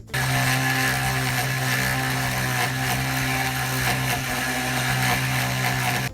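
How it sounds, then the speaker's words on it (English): A Markrist CD 850 diamond drill bit bores dry through porcelain tile with no coolant, giving a loud, steady grinding whine that runs unbroken for about six seconds. "This thing drills perfect holes in porcelain without needing coolant."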